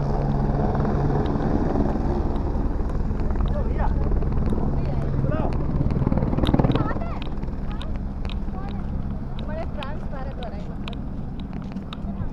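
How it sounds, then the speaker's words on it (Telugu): A helicopter at the Kedarnath helipad drones steadily with a heavy rotor rumble, loud and near, while people talk over it and wind buffets the microphone. "ఇదేనండి మనం వచ్చిన హెలికాప్టర్"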